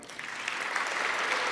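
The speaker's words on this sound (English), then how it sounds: "please join me in giving a warm round of applause to two true super power girls" A large audience at an evening event applauds in a dense, steady wash of clapping that holds at an even level. It rises slightly and continues throughout, with no voices above it.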